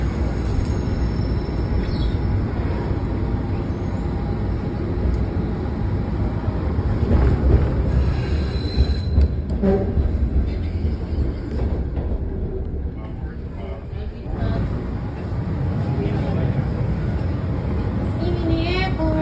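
A Washington Metro train pulls out of Ronald Reagan Airport station on the center track, a steady close rumble of wheels and motors mixed with wind buffeting the microphone, briefly easing midway before building again.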